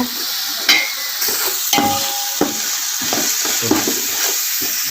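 Sliced onions sizzle and brown in hot oil in a pan for mushroom biryani, a steady close frying hiss broken by scraping spatula strokes at irregular intervals, with no voices.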